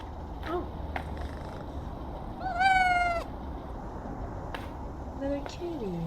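A small pet cat named Ulysses meows a few times, one clear drawn-out meow in the middle and shorter faint ones around it, close by over a steady low background hum.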